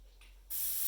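An airbrush spraying red paint bursts on abruptly partway through, a steady airy hiss following a brief faint click of the trigger.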